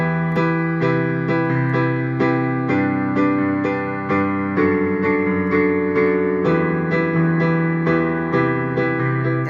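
A piano plays the riff from an unreleased song, a steady run of repeated chords with a bass line, each struck in an even rhythm and left to ring, with no voices.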